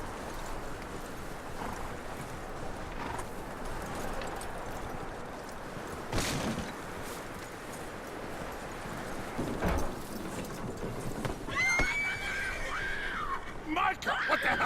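Horse hooves clip-clop steadily in the Red Dead Redemption 2 video game, a faint, continuous rhythmic plodding under ambient wind, with a brief whinny-like cry near the end and a voice speaking at times.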